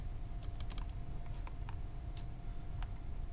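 Faint, irregular keyboard clicks tap out over a steady background hum while entering a value in AutoCAD, a handful of keystrokes spaced unevenly.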